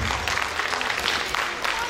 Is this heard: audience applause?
yes